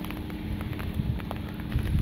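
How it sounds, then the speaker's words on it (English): Light drizzle beginning over a beach campsite with a tent at Mamam Beach on Pulau Ubin, Singapore: a soft, steady patter of fine raindrops against a continuous hiss, faint and without talk. "It's just started to drizzle."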